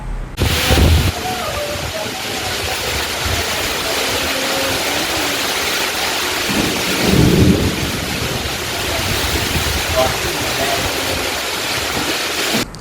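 Heavy summer rain and wind storm pour down in a dense, steady roar with rumbling thunder swelling midway, loud and close throughout.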